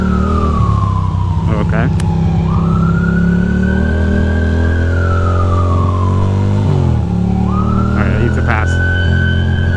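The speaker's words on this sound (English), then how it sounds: "I had to pass that ambulance." A wailing ambulance siren sweeps up and down loudly and close while a Ducati rides through heavy rain at night between Manhattan and Brooklyn, with steady engine and road roar beneath and a rider talking over it.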